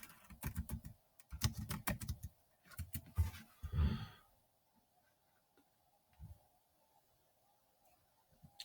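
Keys clatter in quick bursts on a computer keyboard, several short runs of close, crisp clicks separated by pauses, then a few isolated taps trailing off into near silence.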